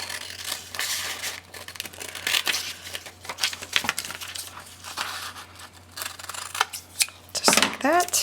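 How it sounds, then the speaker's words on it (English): Scissors trim around a paper envelope cover for a handmade mini album, giving a run of close, crisp snips and rustling paper crinkles in uneven bursts throughout. "So then I'm going to flip it over and trim it out with my scissors."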